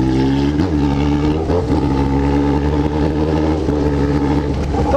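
Yamaha XJ6 motorcycle with a stainless 4-into-1 exhaust and no muffler revving hard, a loud, raw, continuous engine roar with repeated throttle blips, close and alone.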